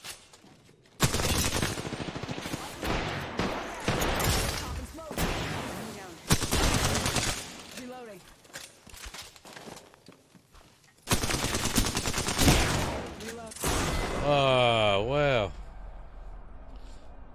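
Rapid automatic gunfire in the battle-royale shooter Apex Legends, long loud bursts of close shots with brief gaps between volleys, followed by a higher-pitched weapon sound trailing off.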